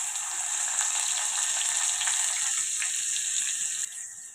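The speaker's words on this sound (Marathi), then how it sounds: "तेल चांगलं कडलं की याच्यामध्ये आपण कांदा टाकून घेऊया।" Onion dropped into hot oil for a simple red masoor dal amti, giving a steady bright sizzle that holds for several seconds and then eases slightly toward the end, with no talking.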